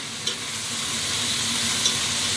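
Onion rings frying in a pan make a continuous bright sizzle, with two brief sharper spits standing out from the steady hiss and no talk.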